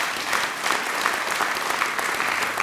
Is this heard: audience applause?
yes